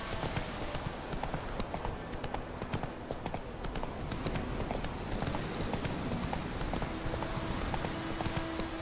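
Hooves of Roach, a horse in The Witcher 3, pound in a steady galloping clip-clop that runs throughout at moderate volume, with brief bits of a rider's voice.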